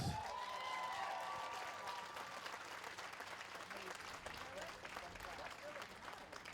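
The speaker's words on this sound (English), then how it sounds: "Please give her another round of applause." Applause from a college graduation audience, a broad crowd of clapping that stays even and fairly distant throughout, with a brief tonal whistle-like sound near the start.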